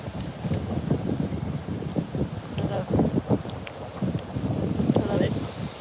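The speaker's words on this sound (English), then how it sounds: "Feel the wind. So cooling." Outdoor wind buffets the microphone, producing loud, low rumbling gusts that rise and fall continuously throughout.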